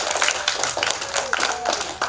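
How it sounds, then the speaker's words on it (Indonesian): Audience at a seminar claps in a brief, busy burst of hand claps, fairly close and lively. "Mari kita beri aplaus,"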